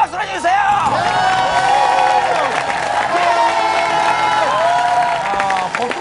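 A television talk show studio audience applauds and cheers with whoops and crowd shouts, loud and sustained throughout, with voices and tonal sound layered over the clapping.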